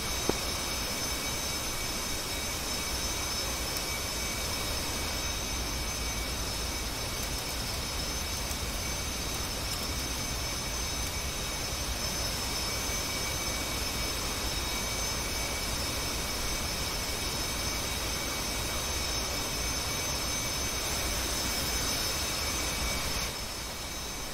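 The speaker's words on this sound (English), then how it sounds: "Right engine is spooling." A fighter jet engine in a combat flight game spools up as a steady, loud, roaring hiss with a faint high whine, continuous and unchanging for the full stretch with no voices.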